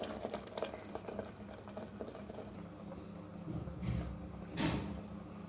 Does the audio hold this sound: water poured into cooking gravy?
yes